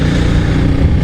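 Steady low engine drone from a 1996 Honda Magna 250cc motorcycle held under light throttle at about 50, loud and continuous with no clear rev changes.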